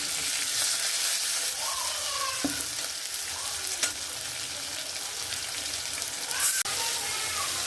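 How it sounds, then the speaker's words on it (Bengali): Dried fish (shutki) frying in a pan with jackfruit seeds, a steady loud sizzle with occasional stirring clicks and scrapes throughout. "একটু শুটকি রান্না করতেছি"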